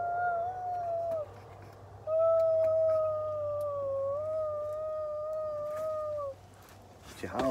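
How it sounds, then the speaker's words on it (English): A dog howls in two long drawn-out tones, the second sustained for several seconds, close and clear over a low background hum, with brief sounds of people between and after. "What you howling at?"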